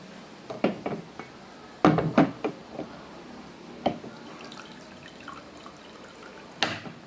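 Water goes into a cooking pan holding chicken, heard as a few scattered quiet splashes and drips with gaps between them, no voices.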